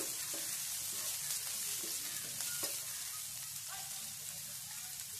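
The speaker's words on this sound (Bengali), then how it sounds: "এখন আমি ফ্রাই করব, ভালো করে ফ্রাই করতে হবে।" Garlic and green chillies frying in a pan, a soft, even sizzle with a crackling, rain-like texture and faint occasional stirring taps, quiet and continuous.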